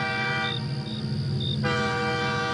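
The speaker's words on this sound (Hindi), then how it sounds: "तभी दूर से एक हॉर्न सुनाई देता है।" A train horn blows in a sustained tonal blast, cuts out briefly, then sounds again, clear and fairly strong, with no speech over it.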